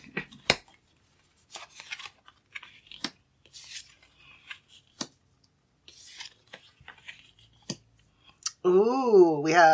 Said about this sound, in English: Thank you for being patient as I terribly shuffle these cards.